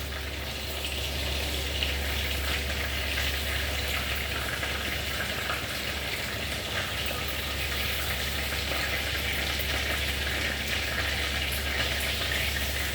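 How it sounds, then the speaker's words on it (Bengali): Pomfret fish frying in oil in a pan, a steady, even hiss and bubbling sizzle over a constant low hum, unchanging and with no voices. "হয়ে গেছে আমার মাছ ভাজা।"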